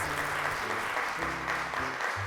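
A studio audience on a children's TV show claps in a steady, dense wash, with a low musical hum running underneath the continuous applause.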